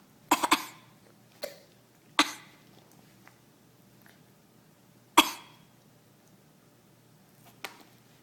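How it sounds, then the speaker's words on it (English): A person coughs several times in short separate bursts, sharp and close, with pauses between them and a quiet background. "Can you cough?"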